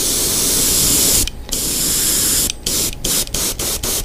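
An airbrush sprays paint onto a Klash 9 Low fishing lure in a steady broadband hiss. Several short breaks, growing more frequent toward the end, interrupt the hiss, and no voices are heard.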